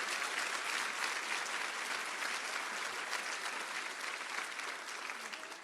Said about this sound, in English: So would you give the mayor another nice round of applause for that vision